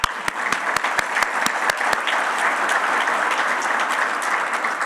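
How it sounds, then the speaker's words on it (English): Audience applause at a CRE forum business event in 2023, a steady wash of many hands clapping that stays loud and even throughout, with a few sharp individual claps standing out early on. "So a round of applause for that."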